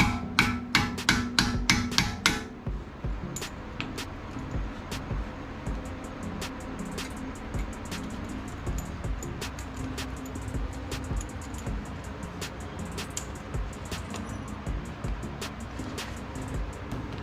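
A small bolt on an Audi S4 brake caliper is loosened: a quick burst of sharp, rapid rattling impacts up close, followed by a long run of lighter ticking and clicking as the bolt comes free.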